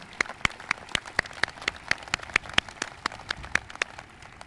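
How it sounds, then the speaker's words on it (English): Sparse applause at a 2010 university convocation greets award recipients, with individual hand claps standing out clearly in a loose, fairly regular patter. "please give your applause to both of them."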